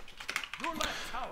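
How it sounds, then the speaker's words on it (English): Quick clicks of a computer keyboard during a game, a short run of light taps under a voice. "Just typing out timer."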